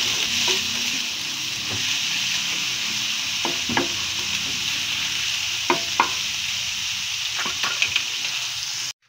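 Corned beef with egg fries in a pan as a steady, close sizzle with occasional pops and light scraping, then cuts off abruptly at the end.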